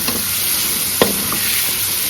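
Prawns sizzle steadily in a pan with a little added water while being cooked into a spicy prawn thokku. A sharp stirring scrape cuts through the frying hiss about halfway through.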